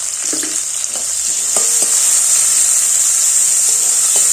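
Snacks fry in a pan of oil with a steady, bright sizzle close by, broken now and then by soft clinks and scrapes of stirring.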